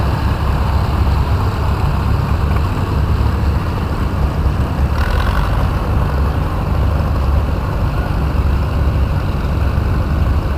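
A 1946 Massey Harris tractor engine runs steadily in a hometown show parade, a loud continuous low rumble with no talk.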